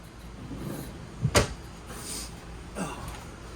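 A large pots-and-pans drawer under the stove of a 2024 Forest River Salem Hemisphere 271RL travel trailer slides and bumps shut with a short wooden clunk, followed by a softer sliding rattle a moment later.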